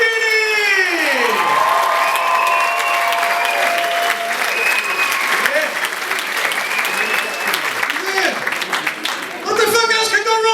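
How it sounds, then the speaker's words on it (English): A comedy crowd at the Cork Opera House bursts into a massive round of applause and cheering for the next act, loud and sustained, with music and a voice carrying over the clapping. "Please give a massive round of applause for Brian Deeney!"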